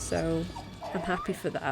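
Hewie the dog from the video game Haunting Ground whimpers and yips in short, uneasy bursts, heard close and fairly loud beneath a person talking over the game sound.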